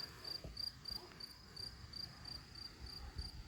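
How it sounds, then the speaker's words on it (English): A cricket among viper's bugloss (blueweed) flowers chirps in a steady, evenly spaced series of short, high pulses, faint but clear over a quiet outdoor background. "That cricket is really going for it."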